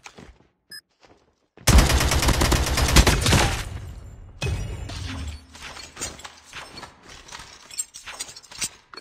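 AK-47 fire in a bomb-defusal shooter game: a dense, loud automatic burst, then a shorter rattling volley with clicks and scattered shots, interspersed with brief quiet gaps.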